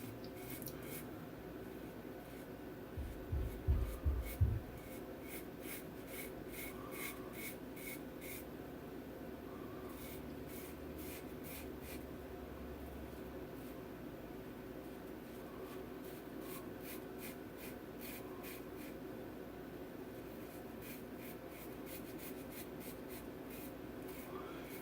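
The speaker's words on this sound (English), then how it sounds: "First couple swipes with the razor here, just like Razorock." Razorock safety razor swiping across a lather of New York soap on skin, a few soft scraping strokes in repeated short bursts over steady room hiss, close and quiet with no talk.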